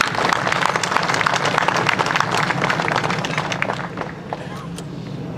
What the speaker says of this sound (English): So would you give all of these men and women a round of applause?